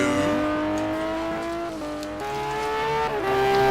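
A Lamborghini Diablo GT1 race car engine in a racing video game at the Nürburgring, revving steadily with shifting pitch through gear changes, loud and up close, with no talk over it.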